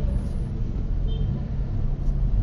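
Heavy road traffic on Commonwealth Avenue, a steady, dense low rumble of passing cars and buses with continuous engine drone close by and no voices.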